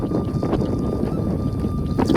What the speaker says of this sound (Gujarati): પવનનો અવાજ બહુ આવે.